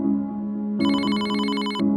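Telephone ringing close by, a sustained electronic ring tone that switches partway through to a brighter, buzzier pattern before returning, with no talk over it.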